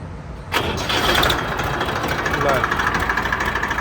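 A Swaraj 855 tractor engine cranks and catches about half a second in, then settles into a steady, loud, close diesel idle with a slight blow-by, continuing to the end with a voice talking over it.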